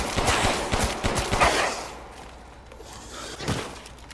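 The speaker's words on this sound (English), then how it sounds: "Can I shoot this down?" Gunshots in Resident Evil Village, a quick rattling burst of close shots up front, then quieter rumble and one more thud near the end.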